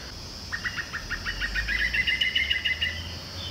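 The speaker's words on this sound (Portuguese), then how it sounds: "É, um pouco de pássaros," Outdoor birds chirp in quick repeated bursts of short high notes, fairly close and clear over a quiet background with a faint low hum.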